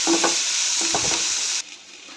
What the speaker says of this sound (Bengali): ফ্রাই করবো হালকা।